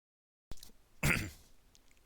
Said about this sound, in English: just have a bit of a coughing fit there